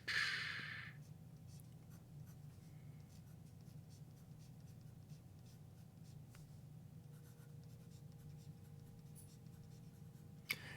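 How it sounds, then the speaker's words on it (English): A sideways-held fountain pen nib scratches across postcard paper in faint, close, continuous strokes, with small rhythmic ticks and brief louder scrapes over a quiet hum. "the way this nib is sideways, it's really kind of musical."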